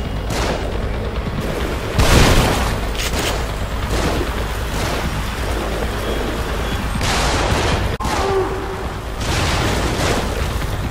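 Gunfire and heavy booms in The Evil Within survival horror game, a loud continuous barrage with sharp bursts at intervals over a dense rumbling background.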